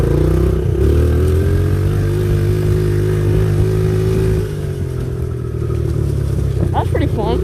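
A pit bike engine drones loud and close while riding a trail, holding a steady buzzing pitch before easing off, with a person talking over it near the end.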